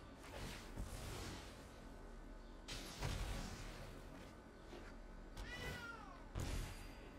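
A cat meows loudly several times, including a drawn-out wailing call near the end, over a constant background hiss.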